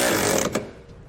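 Mechanical ratcheting from a 13mm socket and wrench tightening the bolts of an EcoHitch Stealth trailer hitch receiver, loud and close for about a second before it trails off.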